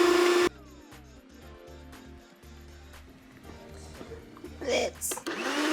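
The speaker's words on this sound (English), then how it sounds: "we're gonna be blitzing the avocado" A kitchen blender blitzes avocado into a puree, starting with a loud whirring burst, then a lower, uneven motor hum that rises again toward the end, with some voice in the background.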